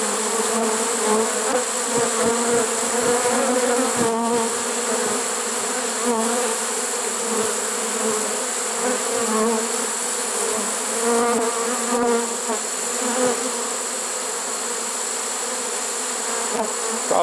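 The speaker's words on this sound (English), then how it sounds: "They're moving now. They're really moving fast to get in there." A swarm of honey bees pours into a swarm trap in September, a steady, dense buzzing hum that stays close and loud throughout, with no voices over it.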